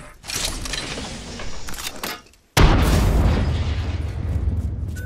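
A grenade goes off in a first-person battle royale shooter game, a sudden loud boom with a rumbling tail after a brief drop to silence, preceded by clattering game action.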